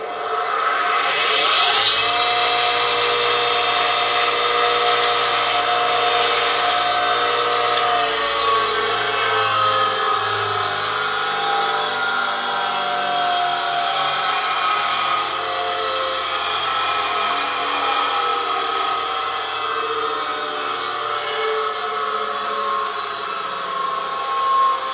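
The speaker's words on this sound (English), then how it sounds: "We're going to take off just a tiny bit of the wheel and leave a totally fresh surface." A grinding wheel is dressed with a harder Norton dressing stone to expose a fresh surface, giving a steady, loud abrasive rasping over the motor's hum that continues throughout without pause.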